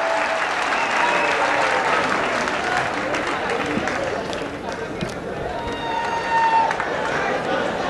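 Sustained, dense applause from a large audience at a Hindi kavi sammelan poetry gathering at Banaras Hindu University in 2012, loud and steady throughout with a slight dip midway before swelling again.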